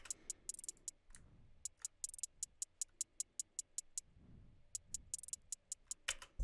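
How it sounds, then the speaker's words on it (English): Programmed clean hi-hats in a hyperpop beat, crisp steady ticks with quick rolls and brief gaps, quiet and alone. "I just made some simple hi-hats with the clean hi-hat, and just added some rolls"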